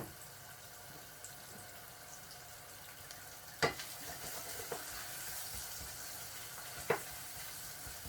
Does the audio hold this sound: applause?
no